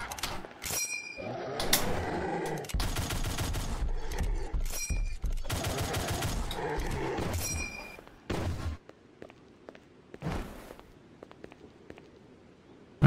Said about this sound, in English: Who's making that noise? Oh, it's these guys with rocket launchers.